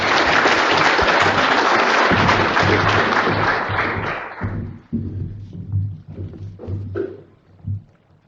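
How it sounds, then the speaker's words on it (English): A round of applause from an audience at a hay production talk, loud dense clapping that thins out after about four seconds into a few scattered claps and thumps. "Let's give him a round of applause, please."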